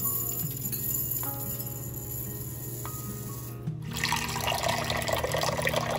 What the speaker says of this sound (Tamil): அடுத்ததாக இதில் கொஞ்சமாக தேவையான அளவு தண்ணி ஆட் பண்ணிவிட்டு இதை நல்லா ஊற வச்சிடலாம்